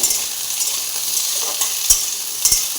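Bottle gourd curry frying in a pan and being stirred, a constant hissing sizzle with a few soft scrapes and knocks of the spoon toward the end.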